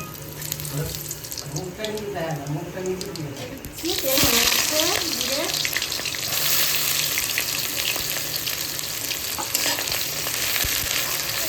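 Cumin seeds and dried red chillies crackle and sizzle as they hit hot oil in a heated kadai, a loud broadband fry that surges after a few seconds of quieter kitchen noise, with someone talking over the start.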